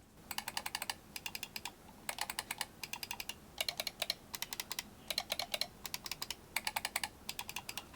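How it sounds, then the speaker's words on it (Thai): Rapid bursts of crisp clicks from a Viper VT Pro gaming mouse with optical switches, grouped in quick repeated runs separated by short pauses, close and clear with no talking. "ตัวนี้ครับ Viper VT Pro นะครับเป็นสวิตออปติคอลเดี๋ยวผมให้ฟังเสียงเทียบกัน"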